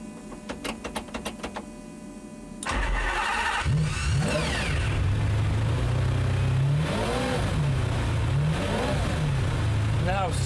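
A stripped-out race-spec car with no sound deadening has its fuel pumps whirring and clicking, then the engine fires and blips through several loud, rising and falling revs close by while people talk.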